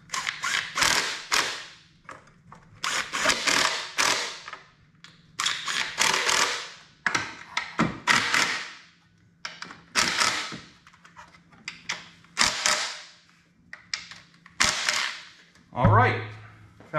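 A torque wrench tightens valve cover bolts on a 2.0 or 2.4 Hyundai/Kia engine, giving repeated ratcheting clicks in short bursts with pauses, close by, ending in a dull thump.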